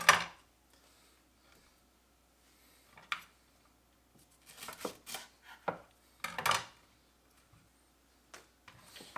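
A knife chops lemongrass on a cutting board in sparse, sharp taps. There is a single knock, a few scattered cuts, then a small cluster of quick chops, with quiet gaps between them.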